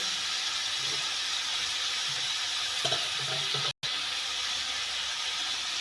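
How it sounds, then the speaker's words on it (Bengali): Water hits a hot pan of fried cauliflower stems and potato, raising a steady, even steam hiss that runs throughout with a few faint knocks and one brief dropout. "খুব সামান্য একটু জল দিয়ে দিলাম"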